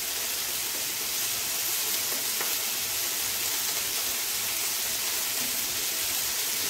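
Vegetables sizzling steadily in a pan, with tomatoes, chiles, garlic and onion cooking for a green sauce with fava beans and pork ribs; a continuous, fairly loud hiss and crackle with no talking.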